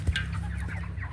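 Chickens clucking softly at close range over a steady low background hum, with one brief louder cluck near the start.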